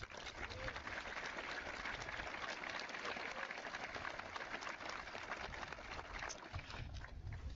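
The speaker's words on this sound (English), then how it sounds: "Please give Devin Schmidt a round of applause in his absence" Audience applause at a high school commencement ceremony, sustained dense clapping from a large crowd at fairly low level throughout.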